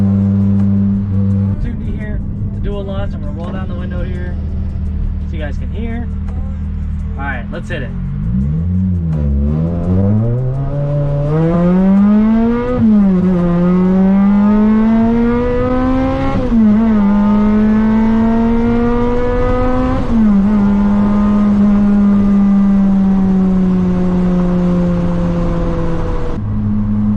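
A supercharged Toyota Celica running nitrous pulls hard from inside the cabin with the window down, engine pitch climbing through rising gear sweeps that drop at each shift, heard close and loud alongside talking.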